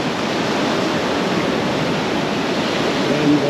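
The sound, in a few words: sea water washing over feet at the beach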